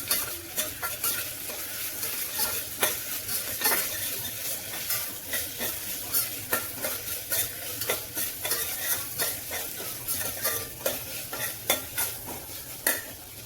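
Ginger garlic paste frying in a pan for methi leaf pulao, a steady close sizzle broken by repeated scraping clicks of a spoon stirring against the metal throughout, with no talking.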